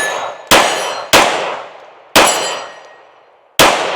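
Four sharp, loud shots from a Kimber R7 Mako Carbon Compact pistol, irregularly spaced, each with a bright metallic ring and a long decaying tail, close to the listener with no talking.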